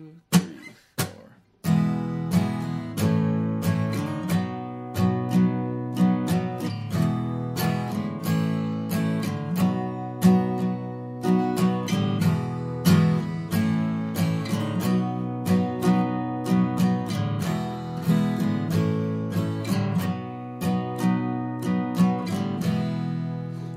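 Acoustic guitar strums a song at a quicker tempo, with steady rhythmic down-and-up strokes sounding close and bright after a brief pause at the start.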